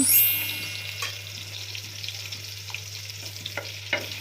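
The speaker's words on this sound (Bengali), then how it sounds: "তেলটা গরম হয়ে যাওয়ার পর আমি এখানে দুই চার চামচ রসুন কুচি দিয়ে দিচ্ছি" Chopped garlic, a few spoonfuls, dropped into hot regular cooking oil in a pan for pasta, giving a soft steady sizzle with occasional stirring clicks, close by and with no talking.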